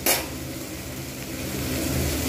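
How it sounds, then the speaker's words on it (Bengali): Water poured into a pan of sautéed potatoes and spices, cooking for a prawn and spiny gourd curry, sets off a loud burst of sizzling at the start that settles into a steady bubbling hiss with no talk. "এইবার আমি এতে দিয়ে দেবো পরিমাণ মতো জল।"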